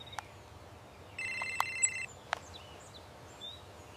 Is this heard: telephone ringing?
yes